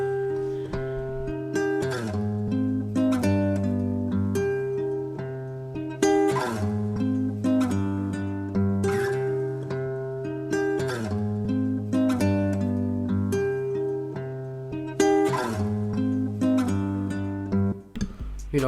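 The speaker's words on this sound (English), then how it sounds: "So I started with this guitar that I play with my real guitar." Real electric guitar recorded as a loop, then chopped and processed with effects, repeating a melodic phrase in steady cycles with sharp sliced attacks, up front and continuous with no voices.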